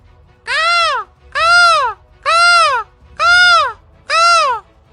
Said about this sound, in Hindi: कौवा जोर जोर से काव काव करने लगा।